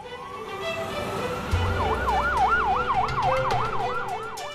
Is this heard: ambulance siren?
yes